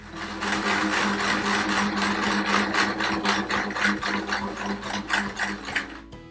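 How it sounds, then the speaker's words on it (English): Sewing machine stitching cotton quilt pieces for a patchwork quilt, a fast steady mechanical clatter of needle strokes running continuously and close, stopping abruptly at the end with no talk. "I'm now going to sew the larger C template piece to the edge of both of these fabrics."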